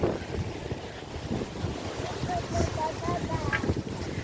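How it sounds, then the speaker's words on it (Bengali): Strong wind gusts outdoors on a walk in Taiwan buffet the microphone in a steady, rough roar that lasts throughout, with faint voices in the background. "প্রচন্ড হাওয়া"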